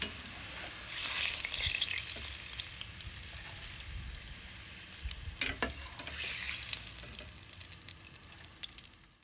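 Garlic sizzles and crackles in hot oil in a pan, the frying hiss swelling and easing in waves with a few sharper spatters, heard on its own without talk.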